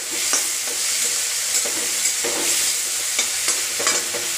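Two red chillies go into finely chopped tomatoes frying in a pan, a continuous close sizzle with soft stirring scrapes and clicks at irregular intervals.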